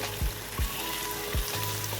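Half a kilo of mixed chicken pieces sizzle and fry with softened onions in a pan for a Shimla mirch chicken dish, a steady close hiss broken by a few low thumps as the pieces are stirred.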